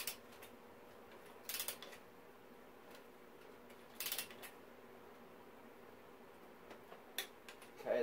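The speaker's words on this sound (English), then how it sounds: "So I'm just going to use a torque wrench on this and put them to 15 foot-pounds." A torque wrench tightens the triple clamp bolts on a Honda CRF450R motocross bike. A few faint, brief clicks stand out against a quiet workshop background.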